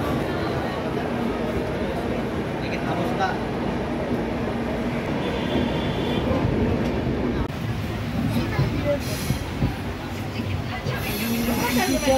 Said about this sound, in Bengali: এই মুহূর্তে আমাদের ট্রেন ছেড়ে দিয়েছে কাশ্মীরে যাওয়ার উদ্দেশ্যে